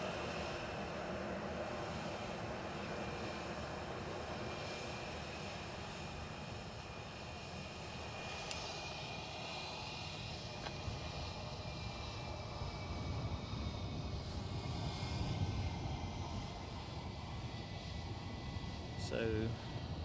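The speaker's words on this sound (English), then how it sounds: "So this British Airways A320-200, 22 years of age, prime of its life." A 22-year-old British Airways Airbus A320-200 at Edinburgh gives a steady, broad engine roar at middle distance, sustained with little change throughout and a slight swell near the end.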